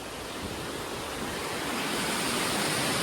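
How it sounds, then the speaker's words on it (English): The Cox Hollow waterfall at Governor Dodge State Park rushes in a dense, steady roar heard from a bridge nearby, unbroken for the whole stretch with no voices over it. "over here on the other side of this bridge is the other waterfall"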